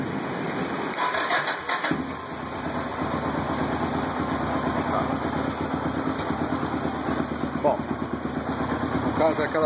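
1993 Yamaha Tenere 600 motorcycle idles steadily at close range with a fast, even engine pulse, and someone talks over it near the start.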